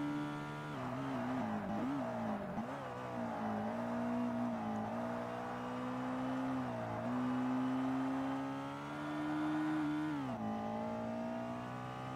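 Toyota Celica engine in Forza Motorsport revving steadily at a sustained drone, pitch dipping and rising with gear changes and throttle lifts, loud and close with no talk over it.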